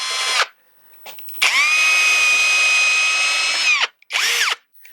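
A power drill whirs in short bursts: a brief spin, a long steady high-pitched run, then another quick burst, loud and close.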